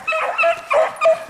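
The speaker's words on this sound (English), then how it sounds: "There the dogs come." Beagle hounds baying on a hare's trail in several drawn-out, tonal howls one after another, fairly close and clear with no talking.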